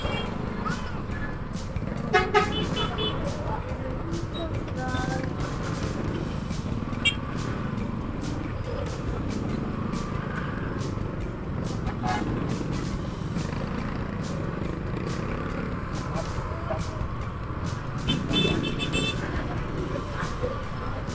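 Busy Manila street traffic heading toward Tayuman, with trucks and cars rumbling steadily and several short car horns honking at intervals, near and constant.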